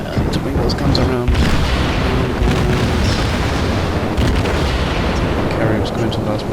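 Warship guns fire in the naval combat game World of Warships, with heavy booms and rumbling blasts layered over dense, continuous battle noise while someone talks over the action.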